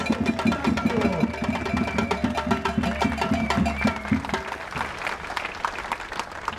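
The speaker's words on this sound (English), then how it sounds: "Give them a massive hand. A massive hand of applause." Rally crowd at a union end-of-strike gathering applauding, sustained dense clapping with a few cheers, steady and fairly loud across the stretch.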